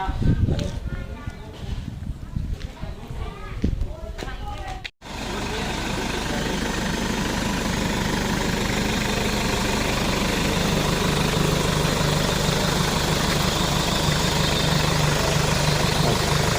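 A 2000 cc turbocharged car idles and then runs during a test drive. A voice talks over a quieter stretch before a sudden cut, after which a loud, steady engine drone with broad road and cabin noise fills the rest.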